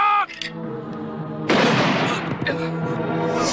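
Gunfire erupts in an Indonesian TV drama fantasy series: a sudden loud blast of broadband shots after a shouted command, continuing as a dense burst under raised voices.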